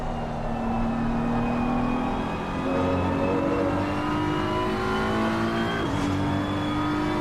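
A race car engine in a sim racing esports event drones steadily at high revs, its pitch climbing gradually and dipping briefly near the end as the car is pushed hard. The sound is continuous, fairly loud and unaccompanied by talk.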